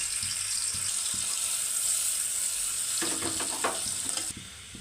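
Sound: onion frying in hot oil for mutton rassa

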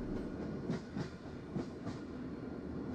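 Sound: train slowing and arriving, Russian train simulator video game

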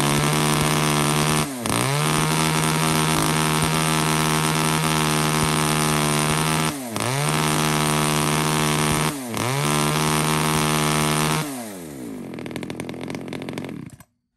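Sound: Hitachi chainsaw being test-started

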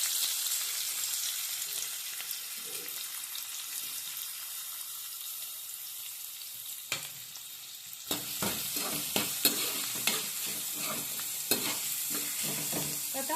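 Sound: onion frying and stirring with curry leaves in pan

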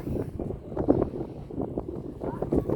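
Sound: wind blowing on microphone

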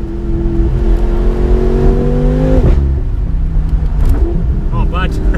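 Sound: BMW F10 M5 Competition accelerating hard

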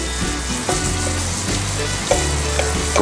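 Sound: shrimp sizzling in a cast iron pan over open fire

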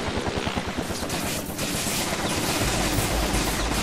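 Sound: helicopter and gunfire in the video game Infamous 2

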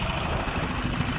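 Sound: fishing boat motor running

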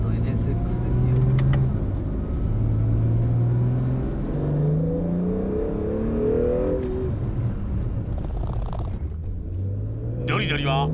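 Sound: Honda NSX 2019 model car driving, engine revving

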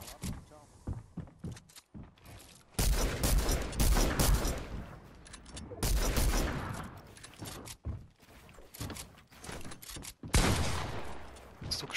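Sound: gunfire in the Fortnite video game

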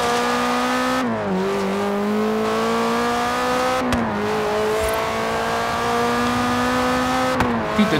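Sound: cars racing in Forza Horizon 3 video game

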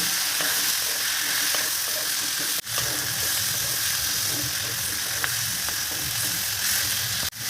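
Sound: frying spices with turmeric and green chilies

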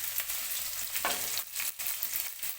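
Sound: stirring carrot, potato, cauliflower and green chilli in tempering

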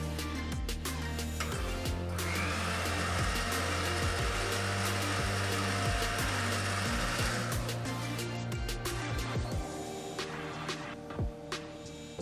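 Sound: food processor blending mushroom soup

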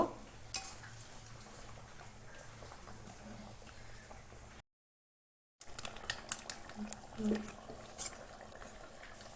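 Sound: chicken meat being cooked in a pot

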